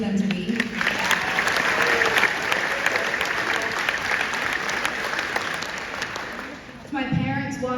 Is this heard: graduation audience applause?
yes